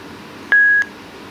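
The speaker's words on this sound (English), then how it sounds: "that little beep just is to confirm that the Bluetooth and your device has been paired together" A TDK TREK Flex Bluetooth speaker sounds its pairing confirmation: two short, clean electronic tones joined by a brief steady beep, close and clear over a faint hiss.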